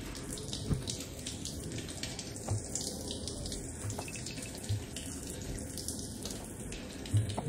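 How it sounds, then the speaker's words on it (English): Shower water running in the VR game Border Bots, a steady hiss of spray with faint splashes and light drips throughout, alone without talk. "Let's give a quick shower here."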